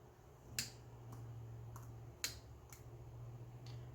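Cutters snip through strands of yarn, giving a few sharp, faint clicks spaced unevenly over a quiet hum.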